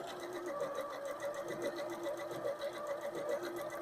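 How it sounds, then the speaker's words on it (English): Janome sewing machine, a 3160 or 2030 model, stitching a blind hem, with a fast, steady mechanical needle rhythm running continuously at close range, quiet and without any talk. "let's go ahead and begin stitching"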